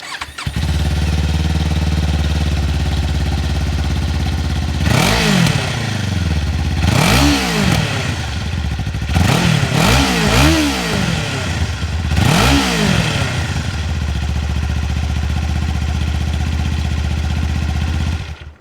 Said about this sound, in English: this is how the Ninja 500 sounds